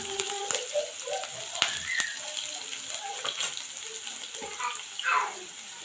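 Onion frying in hot oil for a prawn kofta curry, giving a soft, steady crackle and sizzle with occasional sharper pops.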